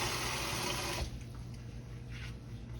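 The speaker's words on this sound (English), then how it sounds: "Fill them up with water" Tap water runs into a cooking pot of fresh pork bones, a steady loud splashing rush that drops and softens after a second as the level rises, continuing as a lower gurgling fill.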